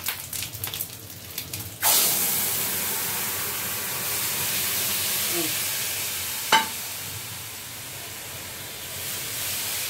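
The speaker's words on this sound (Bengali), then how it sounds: "টকে তেঁতুলের জল দিচ্ছি।" Tamarind water goes into a hot pan for a Bengali fish-egg sour dish, setting off a sudden loud hissing sizzle that settles into a steady steam hiss, with a brief clink partway through and no voices.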